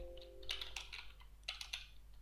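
Quick bursts of keystrokes on a computer keyboard typing a terminal command on a Raspberry Pi setup, soft close clicks in two short clusters over a low hum.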